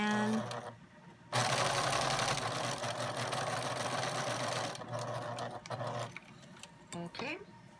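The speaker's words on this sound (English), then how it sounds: "We're gonna sew along the edge again." A sewing machine stitches along the edge of a quilt block, a fast, steady mechanical whir in sustained runs broken by brief pauses, with people talking nearby.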